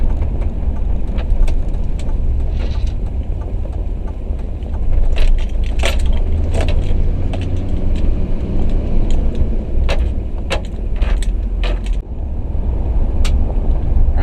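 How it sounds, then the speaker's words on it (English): A 2006 Duramax 2500HD pickup driving with fresh Duralast GT brakes bedding in, a loud steady road rumble inside the cab with scattered small rattles and clicks, no talk. "Nice, easy braking, just to start to get it worn in."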